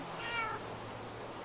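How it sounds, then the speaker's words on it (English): A cat in the video game Minecraft meows, a short bright call near the start followed later by a brief sharp sound, faint over a low steady background. "I just saw you tame the cat."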